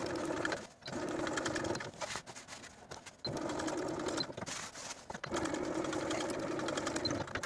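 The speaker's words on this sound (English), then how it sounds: "we're going to edge stitch along those side and bottom edges" A sewing machine edge-stitches along the side and bottom edges of a garment, pivoting at the corners while sewing a top with statement sleeves. The motor hums close and steady, running in bursts broken by brief pauses.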